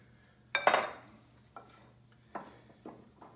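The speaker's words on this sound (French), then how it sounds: "Je mélange tout ça." Lemon-lime pudding batter being mixed in a bowl: one loud utensil knock and scrape, then a few softer, spaced taps and stirring clinks against the bowl in a quiet kitchen.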